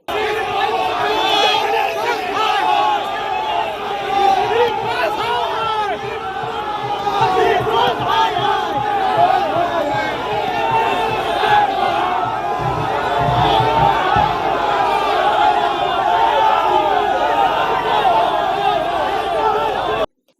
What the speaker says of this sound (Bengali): একদল তৃণমূল কর্মী গো ব্যাক স্লোগান দিতে থাকে